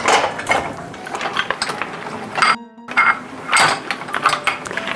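Bowls, ramekins, spatulas and cooking utensils clink and clatter while being loaded into a dishwasher, several bursts of close, fairly loud rattling with a short pause in the middle.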